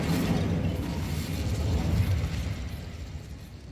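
Fire spells being cast and exploding in the Hogwarts Legacy video game, a dense rumbling burst of magical blasts and crackling that holds steady and loud for several seconds before easing slightly.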